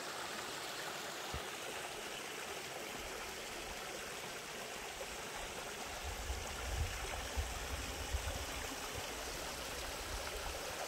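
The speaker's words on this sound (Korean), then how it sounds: "봄이 오는 길목의 물소리." Mountain stream flowing in early spring along a remote rural brook: a constant, even rush of water, close and full, with faint gurgles and small splashes emerging in the latter half.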